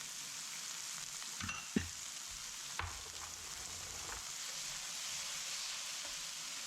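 An egg frying in a little oil in a pan gives a soft, constant sizzle, broken by a few light clicks and knocks of the pan, with no voices.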